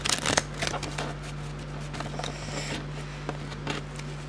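A deck of playing cards is quickly shuffled during a card trick, with rapid riffling clicks and flutters close to the microphone over a faint steady hum.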